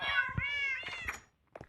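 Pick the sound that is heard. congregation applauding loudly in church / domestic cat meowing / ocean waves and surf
domestic cat meowing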